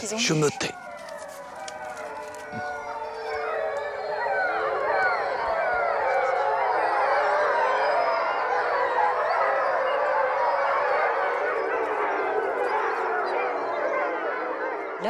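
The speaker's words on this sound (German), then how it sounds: "Jetzt hören Sie die anderen heulen." A wolf pack howls together in the Gévaudan region of France, many long wavering voices rising and overlapping into a loud, sustained chorus, with a single sharp sound at the start.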